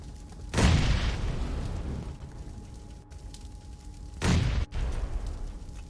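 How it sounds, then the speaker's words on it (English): Grenades going off in a PUBG Mobile match, with two loud, broad booms about four seconds apart, each trailing into a rumbling decay over steady battlefield noise. "Nades coming in from the side."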